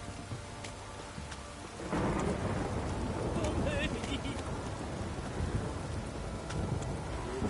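Steady heavy rain in The Witcher 3: Wild Hunt on PS4 that swells louder after a couple of seconds, with rumbling underneath, continuous and enveloping.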